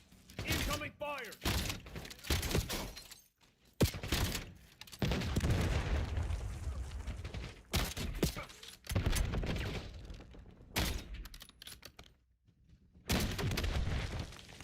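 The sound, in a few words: incoming gunfire in a Black Ops 7 video game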